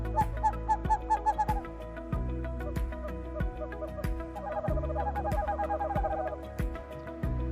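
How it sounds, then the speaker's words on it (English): Owl hooting at night, a series of deep resonant calls repeating in short bursts over a low steady background, with a rapid stuttering run of notes near the start and another later on. "Owls screech through the night and keep us awake when we are camping"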